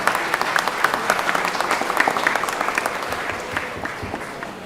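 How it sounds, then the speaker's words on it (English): Steady applause fills a legislative chamber right after a resolution is adopted, a dense wash of many hands clapping at moderate distance that tapers slightly toward the end, with no voices over it. "Clap."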